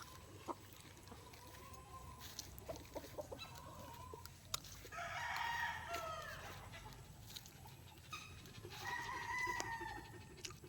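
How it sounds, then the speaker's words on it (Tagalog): Chickens cluck and a rooster crows twice, mid-distance, amid scattered farmyard clucks and faint background noise. "Nagpakaon sila ng mga manok kay hapon na."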